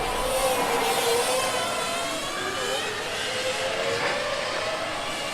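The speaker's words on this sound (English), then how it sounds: "And the last remaining combustion car of today, Vienna, is on the track as well." Formula Student combustion race car from Vienna running on track during an endurance event, a steady distant engine roar holding level without pause.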